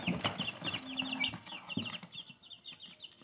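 Chicks in a heated brooder, peeping and chirping in quick, high bursts that are fairly close and moderately loud, with no talk over them.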